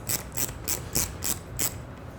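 Ratcheting clicks from a 4mm Allen key loosening a side cover screw on a Ducati Scrambler, six evenly spaced bursts in a steady rhythm, close and clear with no talk.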